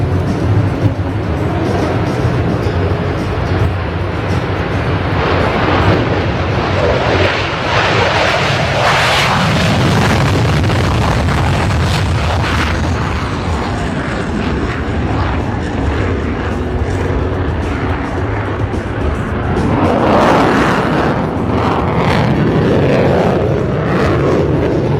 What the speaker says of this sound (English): Heritage Flight Aircraft first, and then it'll be followed by the Raptor departure.